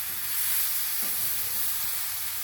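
Broccoli fries in a very hot skillet with a loud, continuous close sizzle and a faint stirring scrape partway through.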